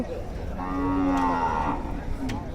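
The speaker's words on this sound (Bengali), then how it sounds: "আমাদের এই সাইডে প্রচুর পরিমাণে গরু আছে" A cow at the crowded Hazratpur cattle market in Bangladesh lets out a single long, loud moo that rises and fades over about two seconds, close by over a low murmur of market background.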